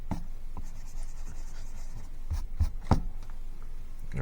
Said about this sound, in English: let's just take care of some of these lines with the pencil